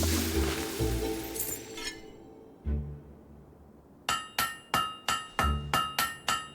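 Forge hammering of a blade in the video game Fable 3, with a few scattered heavier knocks early on, then a steady series of about eight ringing metal-on-anvil strikes in quick even rhythm, near and prominent.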